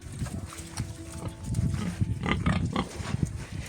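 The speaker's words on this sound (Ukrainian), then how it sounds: "Поки прибираю у свинюх молодших, то випускаю їх погуляти сюди." Pigs on a village farm, let out to roam while the younger pigs' pen is cleaned, grunting and snuffling near the microphone in an irregular, continuous stream of low, rough sounds.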